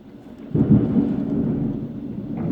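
Heavy rain in Istanbul pours in a dense, steady roar that swells suddenly and stays loud, with a deep rumbling undertone like thunder.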